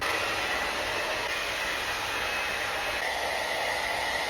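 A hair dryer runs steadily on fine curly hair, a loud continuous broadband whoosh held for several seconds with a slight shift in tone near the end.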